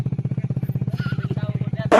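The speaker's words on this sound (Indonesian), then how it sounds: "sejumlah kendaraan dengan knalpot bising turut diamankan" A motorcycle with a loud aftermarket exhaust idles close by, a rapid, even, throbbing pulse that holds steady throughout before a sharp noise cuts in at the end.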